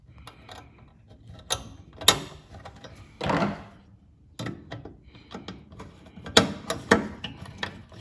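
A hand ratchet drives a screw to refasten the front spoiler on a Toyota Tacoma, giving bursts of close, dry mechanical clicking and scraping, with scattered louder clacks as the part is handled.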